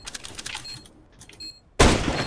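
Gunfire in the video game Counter-Strike: Global Offensive, a few light shots followed by a sudden loud burst of fire near the end, short and sharp.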